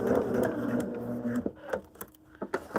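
A sewing machine runs a regular-length straight stitch along a marked line on a modern sampler quilt, giving a steady mechanical whir that stops partway, followed by a few scattered clicks and handling taps.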